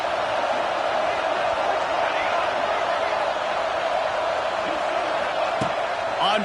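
Large football stadium crowd roaring steadily on a fourth-down play, a sustained loud wash of cheering and noise with a faint announcer voice under it.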